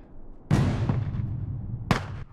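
Two loud, close sniper rifle shots in The Last of Us, each a sharp crack followed by a long rolling echo, spaced about a second and a half apart with no talking.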